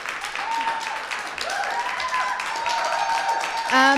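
Scattered clapping from a debate audience carries under a speaking voice, with a steady patter of hands throughout and a brief louder sound at the end.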